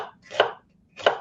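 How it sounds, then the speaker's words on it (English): A knife chops fennel bulbs on a cutting board, two crisp separate chops about half a second apart, close and clear with nothing else around them. "And I'm just chopping these."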